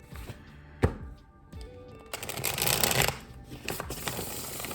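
A deck of tarot cards shuffled by hand at close range, with a couple of sharp taps and then a quick riffling flutter, fairly quiet in an otherwise still room.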